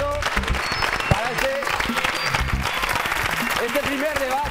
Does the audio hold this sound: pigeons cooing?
no